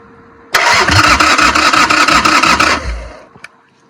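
A motorcycle engine starts with the choke pulled, catching and running loud and rough for about two seconds before sputtering out and dying.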